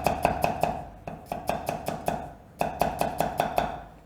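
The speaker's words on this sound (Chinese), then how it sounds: "随便剁一下。" Quick bursts of a knife chopping garlic on a cutting board, sharp rhythmic knocks in three runs with brief pauses between, close and distinct with no talking.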